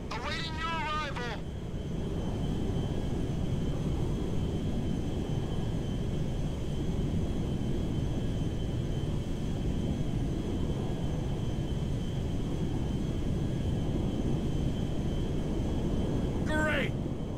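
A cargo jet flying in GTA 5, a steady broadband engine roar sustained throughout, with brief radio-style voice chatter at the start and end.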